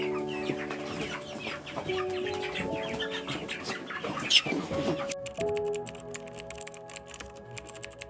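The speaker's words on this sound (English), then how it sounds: "It's the day where we are processing our broiler chickens." Broiler chickens cluck and chatter on a farm, a busy layered mix of fowl calls with steady tones and clicking noises running underneath.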